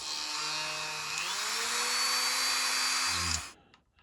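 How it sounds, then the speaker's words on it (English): A power drill whines steadily as it bores a hole into a resin model base, its pitch rising slightly under load before cutting off abruptly, followed by a few faint clicks. "I'm just going to go back in and drill a bit more to accommodate that"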